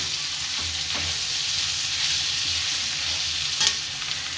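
Long-sliced onions frying in oil for street-style chicken chitranna rice, a continuous close sizzle with light stirring scrapes and one brief louder clink, no talking.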